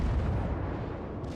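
Main battery of the USS Omaha, a Tier V American cruiser in World of Warships, keeps firing in a dense, heavy roar of naval gunfire, a loud, unbroken rumbling boom with no voices over it.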